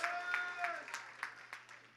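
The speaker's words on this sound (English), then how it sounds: "Please give her another round of applause." At a Time Television anniversary event, a brief patter of scattered claps from an audience sounds in a loose, irregular rhythm, fairly soft, with a voice trailing off at the start.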